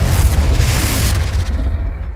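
A Confringo fire spell explodes in Hogwarts Legacy with a loud, deep boom that rumbles briefly and then fades away.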